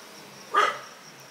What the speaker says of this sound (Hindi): ये कुत्ता जो अभी बगल में भौंका